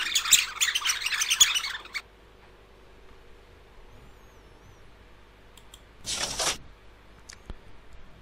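Cartoon birds chirp in a PC counting game for children, a brisk burst of tweets at the start followed by quiet, then a short second flurry of chirps and a few clicks.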